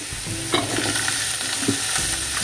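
Eggplant pieces hit a hot pan and get stirred, producing a close, lively sizzle broken by a couple of scraping stirs, alone and with no talking.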